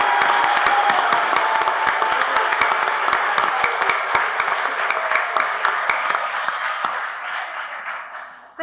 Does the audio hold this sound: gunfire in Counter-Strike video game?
no